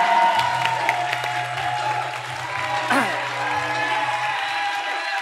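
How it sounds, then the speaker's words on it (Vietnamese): A lively crowd cheers and claps continuously, with a low steady hum underneath and a brief voice cutting through the noise. "Ở dưới reo hò rất là dữ dội"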